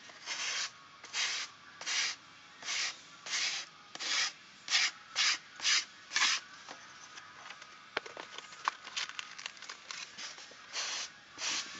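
Hand sanding with 100 grit sandpaper on a handmade greatsword prop, steady rhythmic scratchy strokes repeating close up, then a faster, more irregular scrubbing patch before the even strokes resume.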